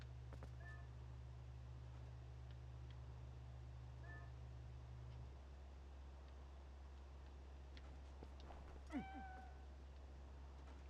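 A cat meows in The Legend of Zelda: Twilight Princess HD, giving three soft, separate meows spaced several seconds apart over a low, constant hum and hiss.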